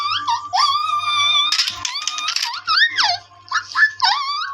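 A dog vocalizes on command in a string of high, squeaky whines and yowling howls, near and fairly loud, with brief pauses between the cries.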